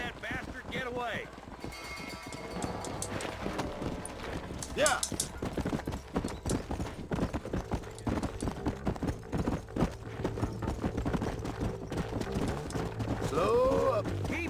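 Galloping horse hooves in the Western video game Red Dead Redemption, a steady rapid clip-clop running through the whole stretch under game music and talking voices, with a brief whinny near the end.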